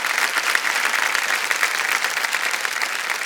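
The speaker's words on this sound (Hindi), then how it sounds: "एक बार जोरदार तालियां बज जाएं इनके लिए।" A studio audience at the KBC quiz show breaks into continuous, loud, dense applause that holds steady throughout without pause.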